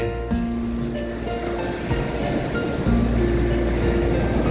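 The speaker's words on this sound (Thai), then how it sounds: "คลื่นแรงนะครับเอง เออ คลื่นใหญ่" Strong, large waves of the Andaman Sea roll onto Surin Beach in Phuket, a loud continuous surf roar with rising and falling swells, close by, mixed with wind buffeting on the microphone and no talking.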